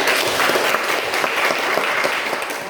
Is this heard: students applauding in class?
yes